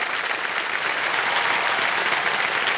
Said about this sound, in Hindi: जोरदार तालियां शिवानी के लिए।